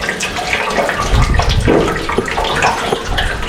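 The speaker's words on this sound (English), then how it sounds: "That's how you drain a BMW M52 TU engine coolant system." Coolant draining from a 1999 BMW 328i E46 M52 TU engine, trickling and splashing steadily from several drip points, close and continuous with no talk.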